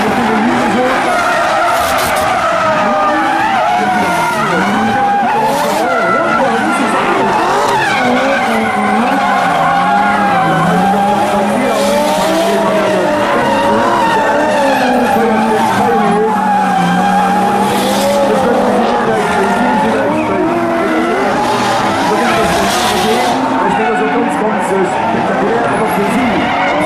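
Four Falken drift team cars slide around a demonstration track at the Lux Expo 2013 show, with tires skidding and squealing continuously and engines roaring loudly throughout, while an announcer talks over a PA.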